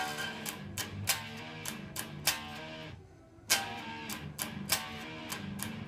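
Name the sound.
guitar playing a beginner song with palm muting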